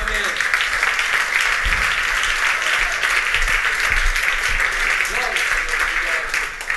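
A church congregation applauds in a steady, dense wash of clapping that fills the room, with voices audible underneath.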